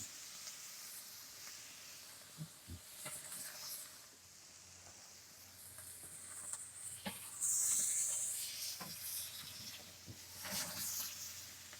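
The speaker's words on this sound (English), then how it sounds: "we'll get some sear going the other way on the grill marks" Beef skirt steak searing over a charcoal grill, giving a steady faint sizzle and hiss with scattered pops and crackles and one louder burst of spitting near the middle, no talking.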